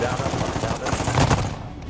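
Gunfire in a video game, a few sharp shots and rapid bursts clustered through the middle, moderately loud over a busy background of game noise.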